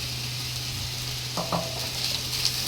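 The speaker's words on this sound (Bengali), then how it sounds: "চালটা দিয়ে এবার ভালো করে একটু নাড়িয়ে নেবো" Gobindobhog rice sizzles steadily in a hot pan, with a few brief scrapes and taps of a utensil stirring it partway through.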